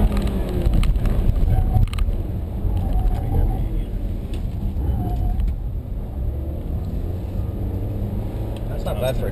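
A 2-liter four-cylinder VW Tiguan engine pulls under acceleration, a low steady rumble of engine and road noise running beneath talk inside the cabin.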